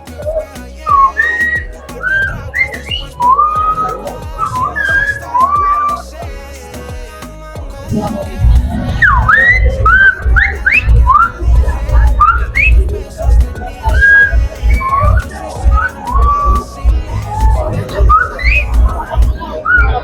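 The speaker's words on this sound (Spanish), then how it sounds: "este es el lenguaje de cómo hablan con el silbido en lo que es La Gomera" Sliding, pitch-bending whistles of the Gomeran whistled language carry on in phrases like a whistled conversation, over a low background rumble and murmur, fairly loud and close, at a festival in Agaete, Gran Canaria.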